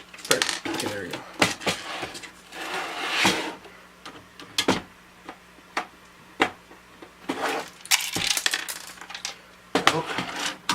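Metal washers clatter out of a TI-99/4A home computer during a restoration, landing in a long series of sharp, close metallic clinks and rattles, some in quick bursts, with brief pauses and occasional low talk between.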